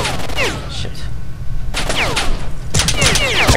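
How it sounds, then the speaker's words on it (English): Enemy gunfire from STALKER: Shadow of Chernobyl comes in loud rapid bursts separated by brief pauses, with the shots crackling close and harsh. "He's shooting me through the bushes."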